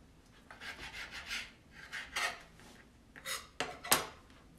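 A knife scrapes and cuts the membranes off mandarins on a board for a shrimp salad, giving a series of soft rasping strokes of uneven length, close and quiet, with a few sharper scratches near the end.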